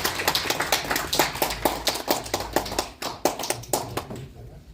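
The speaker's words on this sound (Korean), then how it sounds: "박수 축하의 박수 주시기 바랍니다." An audience claps in congratulation at a Korean media award ceremony, a brisk run of many hands with sharp individual slaps, fading out near the end.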